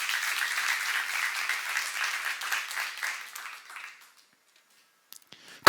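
A church seminar audience breaks into sustained applause for about four seconds, dense and lively clapping that fades to near silence, followed by a couple of brief sharp knocks.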